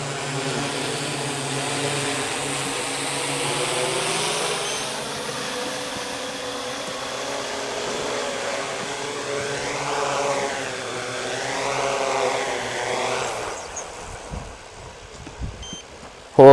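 A Yuneec Typhoon G drone hovers and descends to land, a steady close electric whine with wavering pitch sweeps before the motors cut out near the end.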